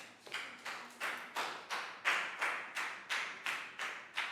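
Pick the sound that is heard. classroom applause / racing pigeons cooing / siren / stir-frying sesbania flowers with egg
classroom applause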